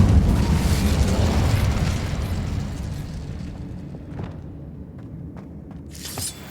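A fiery burst from an Incendio spell in Hogwarts Legacy, cast inside a cave, with a loud roaring blast that gradually fades into quieter crackles and small pops.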